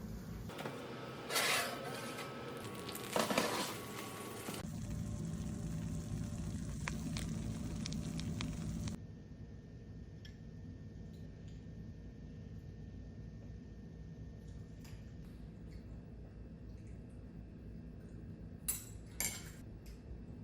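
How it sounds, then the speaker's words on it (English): Maple bourbon sauce for salmon simmers in a pan while a spoon stirs it, giving a few clinks and scrapes over a steady low bubbling sizzle, with no talking. "So I'm gonna stir it around, let it go for a little while longer."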